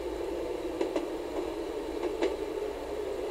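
Train running on the Isle of Wight line in the Railworks 2012 simulator, a steady rumbling roll with a few faint rhythmic clicks from the wheels on rail joints, no voices.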